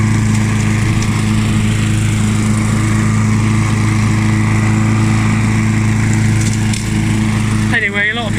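A Mountfield M4 lawn mower with an older Briggs engine runs steadily and loudly close by throughout, with a constant droning hum, and a brief voice at the very end.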